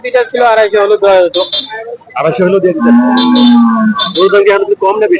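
A bull moos several times nearby at a cattle market, long deep calls rising and falling, loud and clear with a short pause between them.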